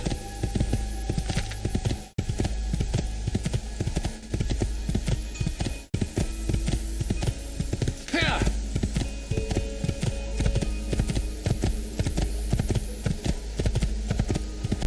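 A horse galloping in Assassin's Creed 3, steady rhythmic hoofbeats clopping under a constant low hum, with a voice talking over them throughout.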